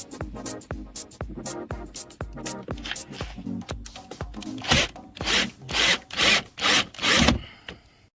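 Screws being driven in while a front chin spoiler is installed on a 2012 Mustang, a run of sharp rhythmic clicks followed by several longer grinding bursts, close and loud, with no voices.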